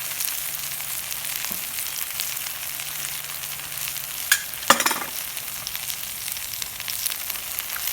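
Steak in sizzling oil, butter and lemon juice is stirred on a STOK drum grill, giving a steady low sizzle with a few sharp clinks and scrapes midway and no talk.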